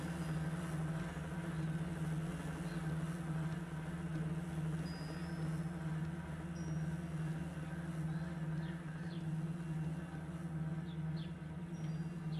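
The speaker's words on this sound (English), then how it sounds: "Why does my car sound like bees now?" A vehicle engine in the video game Sable gives a steady, droning buzz like a swarm of bees. It holds a constant low hum at moderate level with faint chirps above it and no speech.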